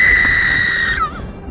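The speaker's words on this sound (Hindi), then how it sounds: "अचानक झोपड़ी के अंदर से एक दर्दनाक चीख सुनाई दी" A woman in a cartoon gives a loud, sustained high-pitched scream of pain during childbirth that breaks off abruptly, with stormy background noise underneath.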